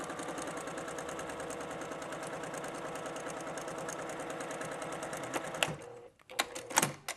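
Sewing machine stitching a quilt seam in buffalo plaid fabric, a steady fast mechanical hum and rapid needle chatter running close and loud for several seconds before stopping, followed by a few light clicks and handling knocks.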